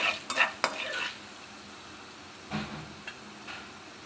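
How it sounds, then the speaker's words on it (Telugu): Frying in a pan for onion chutney, with a faint steady sizzle under sharp spoon scrapes and clinks against the pan, busiest at the start, then a quieter stretch and a few more stirs. "ఇది బాగా గోల్డెన్ బ్రౌన్ వచ్చే వరకు ఫ్రై చేసుకోవాలండి"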